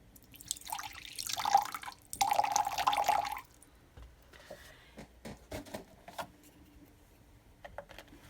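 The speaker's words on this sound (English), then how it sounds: "I am going to pour 4 ounces of distilled water" Distilled water pours in two splashy bursts, followed by scattered drips, clicks and small handling sounds nearby.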